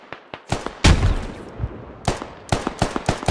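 Suppressive gunfire in the game Squad: sharp rifle shots crack in irregular bursts and single reports, loud and close, with one heavier blast.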